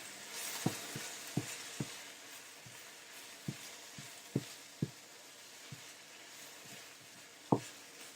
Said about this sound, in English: You can now remove the lid and stir it once again.